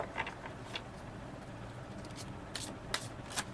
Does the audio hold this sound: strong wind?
no